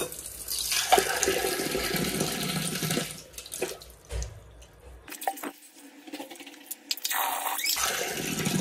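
Water runs and swirls as it is pushed down a kitchen sink after dishwashing at home, a steady rushing flow that fades midway, then returns in short splashy bursts near the microphone.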